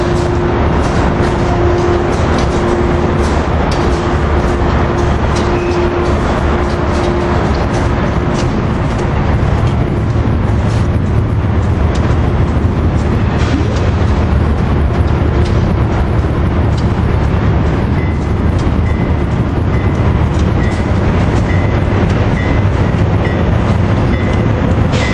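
Amtrak train 514 rolls past a station at close range, a loud, steady roar of wheels and rail clatter that holds for the whole stretch, with a horn-like tone showing briefly near the start and again toward the end.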